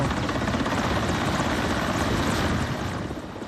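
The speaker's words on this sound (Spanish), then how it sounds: "Helicópteros de la Fuerza Aérea de Ecuador y Perú han realizado este miércoles 14 descargas de agua" Firefighting helicopters from the Ecuadorian and Peruvian air forces make water drops over forest fires. A loud, steady rotor roar with rapid blade chop fills the scene and eases off slightly at the end.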